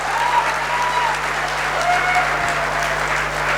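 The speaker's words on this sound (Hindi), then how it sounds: "ताली बजाना है, जोर से मारो" An audience at a motivational talk clapping loudly and steadily, a sustained wash of applause with a faint tone and brief vocal sounds underneath.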